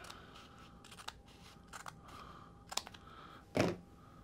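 Scissors make a few sharp snips trimming the edge of factory graphic film on a 1990–96 Corvette digital gauge LCD, close and quiet with short pauses between cuts.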